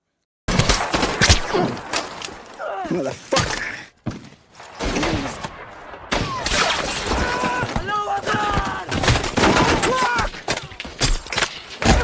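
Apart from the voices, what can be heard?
gunfire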